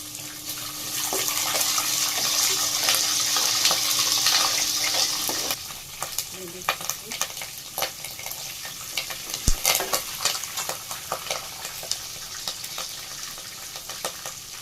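Green and dried chillies frying in hot oil for a green gram upittu, a loud steady sizzle for about five seconds, then quieter stirring and scraping with a few sharp clinks.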